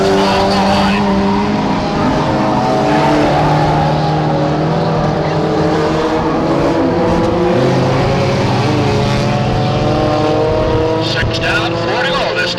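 Four-cylinder race cars roar around the track during a qualifier in a crash and burn division, engines loud and continuous with tire squeal, while an announcer's voice runs steadily over the racing.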